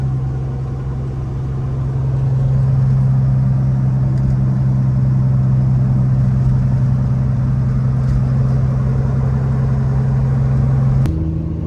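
A deep, steady Caterpillar diesel engine in a Peterbilt 389 truck idles close by with a constant low rumble, the pitch dropping slightly near the end. No voices.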